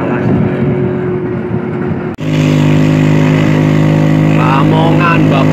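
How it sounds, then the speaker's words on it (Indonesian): A Vespa scooter with a broken exhaust runs loud and close, a rough, blatting engine drone that briefly cuts out, then resumes at a steady throaty idle during a scooter festival touring ride. "Knalpotnya putus jadi brot kayak Vespa Extreme"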